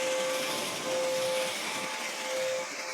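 A pressure washer rinses cleaner off coated car panels, producing a steady, loud broadband spray hiss with a faint constant whine running through it, continuous for the whole stretch with slight swells in level.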